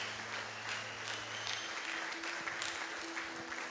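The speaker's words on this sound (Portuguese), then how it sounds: "Você pode aplaudir a Jesus?" A church congregation applauding during a worship service, a steady, fairly faint wash of clapping that fills the whole stretch, with a held musical tone sounding underneath.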